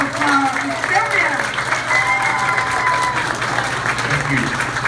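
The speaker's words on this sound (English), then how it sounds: "Let's have a round of applause for Silvia." Audience applause for a political candidate for Precinct 6 at a campaign event in Houston, a steady, dense patter of clapping that lasts throughout, with a voice speaking over it.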